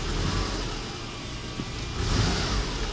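A Subaru Outback engine runs just after a clutch and timing belt job, a steady close hum with a slight rise in revs and some broadband background noise, with no voices.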